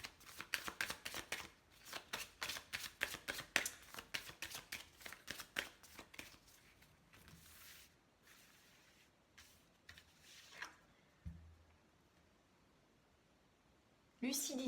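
Oracle cards shuffled by hand in rapid, rhythmic riffling bursts for several seconds, then slower scattered card taps and slides, close and fairly quiet.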